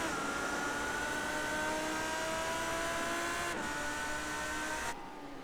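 Race cars in the iRacing simulator at Okayama circuit, engines revving hard and howling past close by, a dense layered drone that cuts off abruptly near the end.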